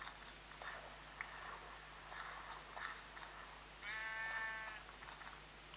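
Sheep in Minecraft PE bleating, a few short wavering bleats spread across the clip, the last one longer and clearer, over a quiet game background.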